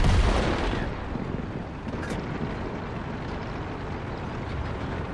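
Artillery fire booms in a tank battle video game, a heavy blast at the start fading into a dense, continuous rumble of distant explosions and battlefield noise.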